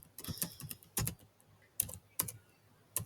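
Typing code on a computer keyboard: scattered quiet clusters of key clicks with short pauses between bursts, heard alone and close.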